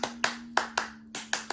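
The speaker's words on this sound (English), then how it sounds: "we can clap our hands to make music" Hands clapping a simple rhythmic pattern, seven sharp close claps over a steady low hum, with no speech.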